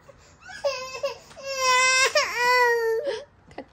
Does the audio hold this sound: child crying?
yes